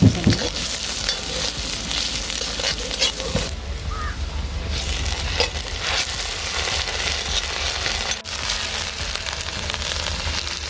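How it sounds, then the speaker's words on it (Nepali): Local chicken meat fries in a pan with a steady, dense sizzle and crackle that runs throughout, with occasional stirring scrapes close by. "मैले अब मासु राखेँ। मासु पर भुटेँ।"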